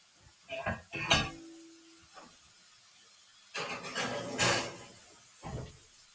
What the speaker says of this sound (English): So I'm going to put this in the oven now.